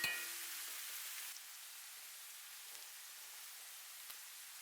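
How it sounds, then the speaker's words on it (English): Bacon and kimchi sizzle in a pan as the kimchi juice cooks down, a steady, fairly quiet hiss that eases slightly after the first second and carries on with a few faint pops. "Give it all a good stir and allow the kimchi juice to reduce until it's almost all gone"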